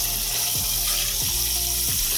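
Tap water runs steadily and loudly into a bowl of rice being washed, a continuous splashing rush with a few low gurgling swells.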